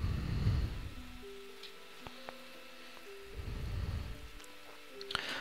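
Rain falls in the medieval castle-building game Stronghold 3 as a steady hiss, with low rumbling swells and a few faint game tones and clicks over it.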